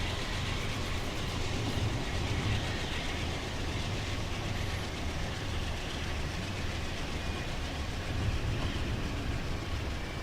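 A P-32 diesel locomotive in Train Simulator 2021 rolls along steadily, a continuous low rumble with faint rail clatter that stays even and unbroken throughout, with no voices.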